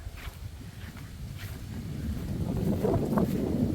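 Wind gusts across an open outdoor spot by a fish pond among coconut palms, a steady low rushing and buffeting on the microphone that swells louder toward the end.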